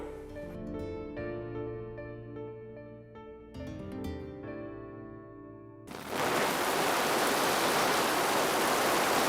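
Heavy rain pours down as a dense, steady hiss that starts abruptly after a stretch of music and continues loud and unbroken to the end, without talk.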